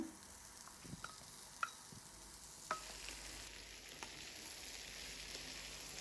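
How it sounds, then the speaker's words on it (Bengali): Meat frying in a pan sizzles softly and steadily, with a few faint clinks of stirring. "এই পর্যায়ে আমি মাংসগুলো দিয়ে দিলাম"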